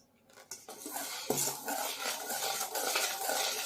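A cup of milk is poured into fruit cake batter, with soft clinks of utensils against a bowl and gentle mixing sounds running steadily throughout, close and fairly quiet.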